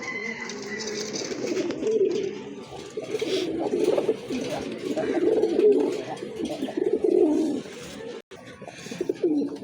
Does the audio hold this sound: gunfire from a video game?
no